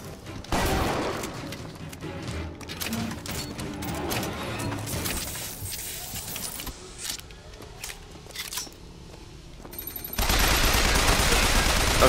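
Turret gunfire in the BioShock Infinite video game sounds as dense, crackling bursts mixed with impact crashes, then a loud continuous blast of noise near the end, with no talking.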